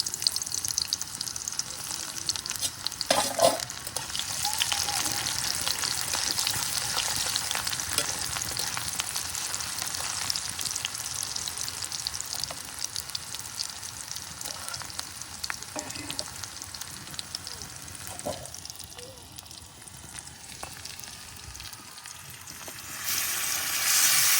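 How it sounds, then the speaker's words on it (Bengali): Onions hit a hot pan for a home-cooked chicken curry and fry with a loud, steady sizzle that runs throughout, broken by a few scraping stirs; no one speaks. "এখন পেঁয়াজটা দিয়ে দেওয়া হবে তাহলে।"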